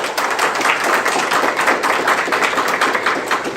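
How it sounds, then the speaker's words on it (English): A large audience at an evening civic event launching a statewide ranked-choice voting campaign in Rhode Island claps steadily for the host, a dense, continuous round of applause with no voices over it. "please give the host another round of applause"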